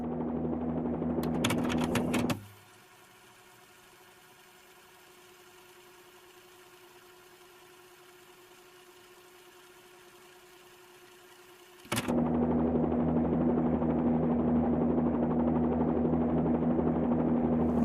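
Bell 47 helicopter engine in the X-Plane flight simulator, a loud steady droning hum that suddenly drops to a quieter, thinner tone for about ten seconds before the full engine roar returns.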